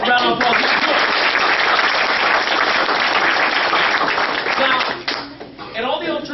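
Audience applause in a hall after a guest speaker's talk to students, dense steady clapping from many hands that thins and tapers toward the end, with a voice briefly audible as it fades.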